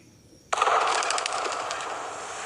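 A single hand clap in the judgment hall of Golconda Fort, Hyderabad, with a sharp close attack followed by a long, dense fluttering echo that rings on and slowly fades.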